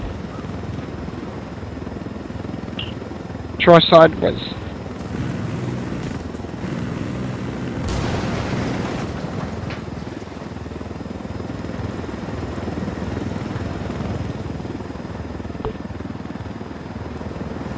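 Helicopter in the video game Ghost Recon Wildlands keeps up a steady, close rotor and engine drone for the whole stretch, with a sharp burst of louder noise near the start and a brief spoken remark.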